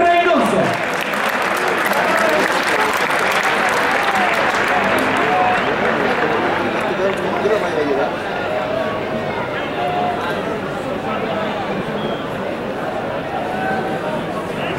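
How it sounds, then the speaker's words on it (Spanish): Sustained loud crowd applause at a football match of historic club veterans, honouring the day's goalscorer Gerardo Manuel Reynoso, a dense steady roar of clapping and cheering filling the stadium for the whole stretch, easing slightly toward the end. "Y vamos con ese aplauso fuerte para el goleador de la jornada, Gerardo Manuel Reynoso."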